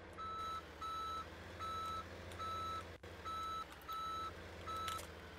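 Tow truck reversing beeps in Farming Simulator 17, a steady train of evenly spaced electronic beeps, loud and repetitive, over a low engine rumble.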